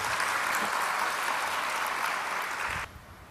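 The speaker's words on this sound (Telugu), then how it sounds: "చప్పట్లు కొట్టి దేవుని స్తుతిద్దాం" A church congregation claps together in praise, a dense, loud, continuous wash of applause that stops abruptly near the end, leaving only faint room noise.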